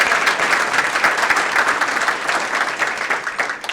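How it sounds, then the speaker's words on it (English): At a chamber of commerce women's achievement awards event, a crowd breaks into loud, dense applause, continuous close clapping that holds steady for a few seconds. "So, great round of applause."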